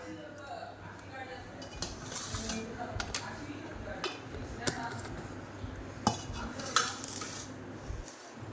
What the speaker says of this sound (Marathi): तर या सोऱ्याला आपल्याला ही चकलीची प्लेट लावायची आहे.